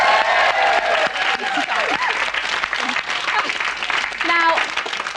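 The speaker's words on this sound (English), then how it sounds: "I think she deserves a round of applause." A round of applause from a television talk show studio audience, close and fairly loud, with scattered voices and a whoop or two mixed into the clapping throughout.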